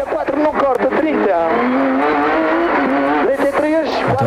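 On-board sound from a rally car with a stuck throttle during the Rali Município de Câmara de Lobos e Funchal 2014: a loud, sustained high-revving engine note with rising and falling pitch, heard close up throughout with no talk over it.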